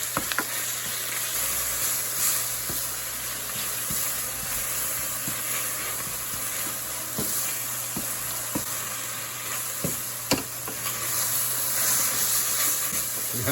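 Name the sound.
spinach frying and sizzling in a pan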